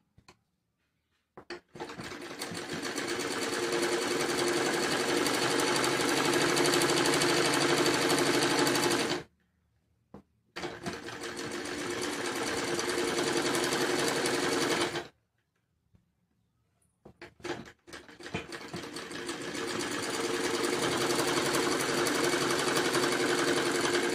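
A sewing machine runs in three long bursts, stitching along a blouse back neck, with short pauses between runs; the motor whirs close and steady, alone with no talk.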